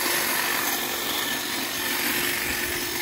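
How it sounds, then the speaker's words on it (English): A DeWalt cordless hedge trimmer cuts through light brush, giving a close, loud, continuous buzzing rasp with no pauses. "Over here is the hedge trimmer being used."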